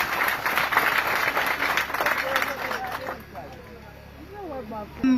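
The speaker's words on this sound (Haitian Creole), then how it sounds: "Nous demandons encore applaudir agronome Claudie pour nous" Audience applause for agronomist Claudie Lebrun at a gathering, dense clapping for about three seconds that then thins out, with voices and murmuring continuing underneath.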